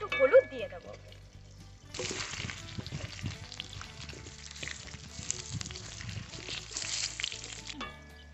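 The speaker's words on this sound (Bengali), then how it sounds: "আলুগুলো একটু নাড়িয়ে চাড়িয়ে নিই" Potatoes stirred as they fry in a pan, a soft sizzle that rises into a fuller hiss with scraping and stirring movements, and a voice speaking briefly at the start.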